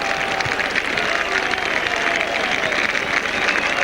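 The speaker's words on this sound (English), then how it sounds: "Every time Andrew Wilson gets that ball, this crowd comes to his feet" Rugby league crowd applauding a try by Wakefield Trinity against Featherstone, a dense steady roar of clapping and cheering that fills the whole stretch, loud and sustained.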